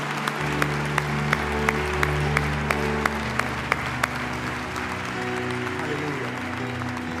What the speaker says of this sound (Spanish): Yo creo que eso merece un aplauso estruendoso.